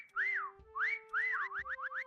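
Whistles calling a teammate in the video game Mecha Chameleon: several rising-and-falling whistled phrases, then a quicker run of short chirping whistles over a steady background tone, close and clear with no talk.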